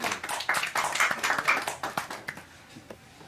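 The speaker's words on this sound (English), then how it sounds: "Let's give our brother Shafiq a round of applause for that very informative and animated presentation." An audience claps for a presentation, a brief burst of close, sharp handclaps that thins out and fades within a few seconds.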